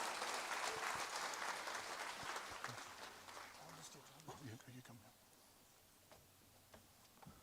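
An audience at a developer conference applauds a speaker, a dense burst of clapping that gradually thins and fades into scattered claps.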